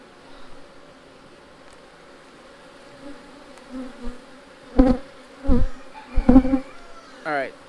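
Honey bees buzz around an open hive during an inspection near a frame of sealed brood, a low steady hum punctuated by several louder close passes in the second half.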